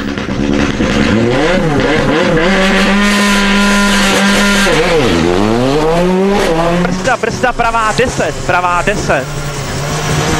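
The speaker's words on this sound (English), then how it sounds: "Jan Kopecky is the 3rd car to take on this test" A rally car on a stage of Rally Catalunya in the video game WRC 2005, its engine revving loudly through rising and falling gear changes with tire squeal, sustained and close, under a commentator's voice.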